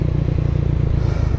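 A Buell Blast motorcycle engine braking while downshifting, a loud, close, rapid thumping drone from the single-cylinder engine, pulsing steadily at low pitch with a rough mechanical rattle throughout.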